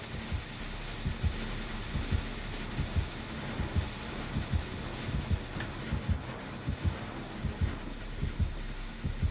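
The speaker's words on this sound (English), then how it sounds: "I still have heartbeats on the other side of the map" Steady throbbing heartbeat of the killer's terror radius in the video game Dead by Daylight, a regular rhythmic pulse repeating throughout over a low background, with no talking.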